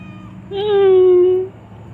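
A tiny found kitten gives a single clear, drawn-out meow lasting about a second, loud and close against a quiet indoor background.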